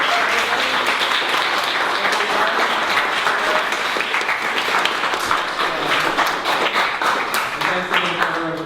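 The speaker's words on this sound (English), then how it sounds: "A round of applause for our readers." An audience at a young writers' text-performance reading applauds its readers with loud, sustained clapping for nearly nine seconds, a continuous crackle of many hands.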